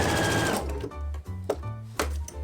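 A sewing machine stitches a quilt seam close by, a fast loud mechanical whir that stops and restarts in short bursts.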